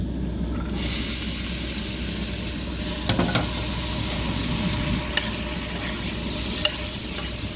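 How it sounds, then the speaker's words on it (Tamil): Sautéed onion with added snake gourd and gram sizzles steadily in a pan. A brighter hiss rises early, and a cluster of spatula scrapes and clinks comes around the middle, followed by a few single taps. "வெங்காயம் நல்லா வதங்கிட்டு இப்போ கடலையை சேர்த்துருக்காங்க, காயை."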